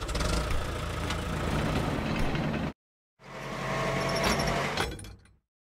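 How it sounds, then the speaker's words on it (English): A road roller's diesel engine rumbles loud and steady, cut off abruptly, then resumes briefly before stopping, heard alone with no voices. "Road roller."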